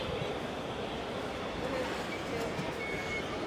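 Small ride-on train in a shopping mall starting up, giving a steady, even rumbling drone that runs the whole time, with faint crowd chatter in the background.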